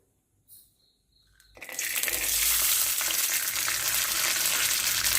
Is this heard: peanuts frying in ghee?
yes